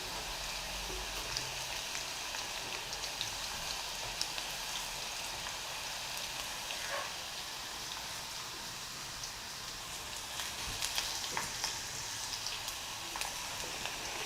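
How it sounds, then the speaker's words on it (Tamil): A steady, dense sizzle of plantain slices frying in hot oil crackles throughout, constant and close with no talking. "இதை பொரிக்கிறப்ப நீங்கள் அடிக்கடி இப்படி கிளறி விட்டுட்டே இருங்க"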